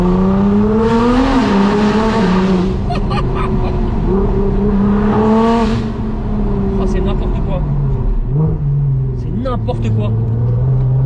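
Nissan GT-R engine revving loudly up and down on a country road, with rising and falling harmonic sweeps close by and a person talking over it throughout.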